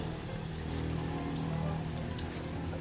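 Steady rain falling on a farm where napier grass is grown, a faint continuous patter and hiss on nearby surfaces, with no talk.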